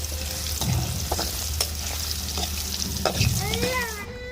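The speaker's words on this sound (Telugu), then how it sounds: "ఆ కలర్ వచ్చేంత వరకు అయితే డీప్ ఫ్రై చేసేసుకొని పక్క తీసేసుకుందాం" Paneer cubes deep-fry in a pan of oil, browning with a steady close sizzle and bubbling. Clinks of a utensil sound throughout, and a faint wavering tonal voice sound near the end sits over a low hum.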